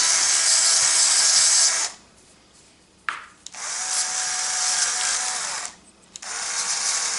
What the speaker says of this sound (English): Having this smaller sander, one that's more easily controllable,